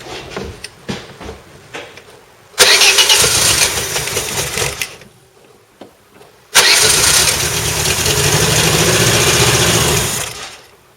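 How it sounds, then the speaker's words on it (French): A Peugeot 205 engine cranking and catching on fuel poured in by hand, then dying, which happens twice: after a quiet stretch the engine roars up loudly, runs briefly and cuts out, then fires again and runs longer before stopping. "Bon voilà, donc comme vous voyez, elle démarre, mais elle cale aussi vite"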